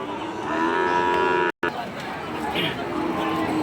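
Sahiwal and Nepali Gir cows moo at a Qurbani cattle market, with drawn-out, close lowing calls rising over steady crowd chatter and nearby talking, broken by one brief dropout.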